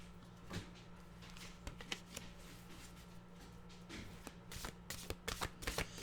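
A deck of mantra cards being shuffled: repeated soft riffling and flicking bursts close by, growing busier toward the end, over a low steady hum with no talking.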